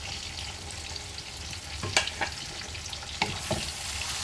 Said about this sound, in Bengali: এরপর অ্যাড করে দিলাম দেখো জিরে, ধনে, লঙ্কার গুঁড়ো, নুন আর গোলমরিচের গুঁড়ো।